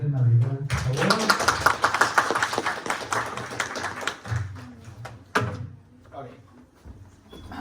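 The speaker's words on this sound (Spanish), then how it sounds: "les pido un aplauso para Ángel Madrigal, por favor" Audience applause for a student presenter at a talk, loud sustained clapping from a crowd that swells, holds for several seconds and then fades out.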